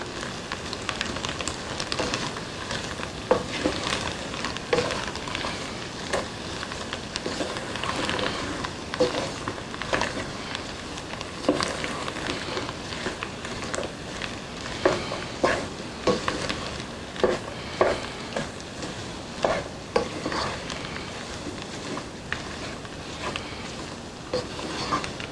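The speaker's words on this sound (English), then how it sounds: "Give this a stir." A pot of neck bone étouffée with vegetables is stirred, giving a faint, soft, continuous simmering sizzle broken by repeated spoon scrapes and light knocks, close by with no talk.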